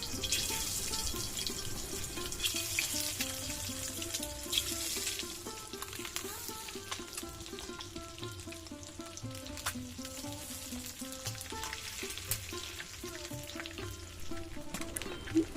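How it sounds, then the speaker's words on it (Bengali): Eggs frying one by one in hot oil in a wok, giving a continuous close sizzle with spattering crackles that holds steady the whole time, no voices over it. "এরপর এক এক করে সব ডিমগুলিকে ভেজে নেব"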